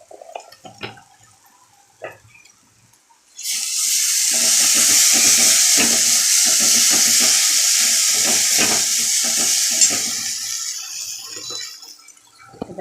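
Spices with Kashmiri chilli frying loudly in a pan of oil for mustard pabda fish, a strong continuous sizzle that bursts in after a few light clinks and runs steadily with spoon scrapes and stirring beneath it.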